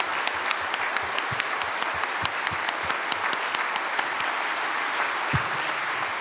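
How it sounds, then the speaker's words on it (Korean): A standing church congregation at a pastor's installation service applauds steadily, a moderately distant wash of claps with a few sharper nearby hits and thumps spread through it. "다시 한번 크게 박수 한번 해주세요."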